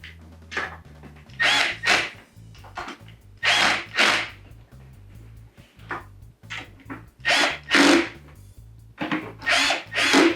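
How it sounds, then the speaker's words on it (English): Impact driver set to clutch 8 tightening bolts with a 4 mm Allen key bit while mounting an MFC Offroad Utili-Rack roof rack: repeated loud, close bursts of whirring and rattling, about ten short runs with pauses between them and no talk. "On the clutch, on this impact, I'm using 8. You don't want to over tighten it"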